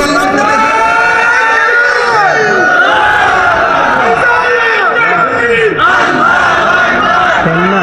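Loud crowd at an Islamic sermon (waz) chanting a slogan together, a dense, sustained mass of voices with a leading voice over it, rising in waves throughout.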